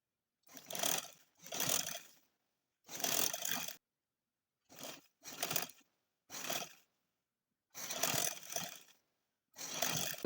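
A sewing machine stitching a lace panel onto frock fabric, whirring in repeated bursts of one to two seconds separated by short pauses, loud and close with no voices.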